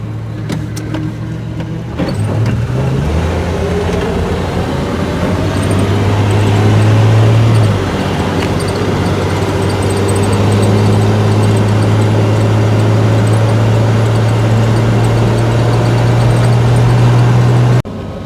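A 1973 Plymouth Duster cruising down a road, its engine droning steadily with shifts in pitch as it changes gear, plus constant road and wind noise from inside the car.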